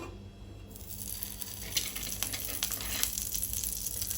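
A little oil heating in a hot pan on a gas stove, a steady, soft sizzle with faint crackles rising underneath, fairly quiet and continuous with no talking.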